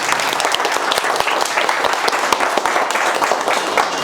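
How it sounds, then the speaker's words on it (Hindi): An audience stands and applauds loudly for the MD, producing a dense, steady wall of clapping close by that lasts the whole stretch without a break. "एक बार खड़े होकर जोरदार ताली बजाइए MD सर के लिए"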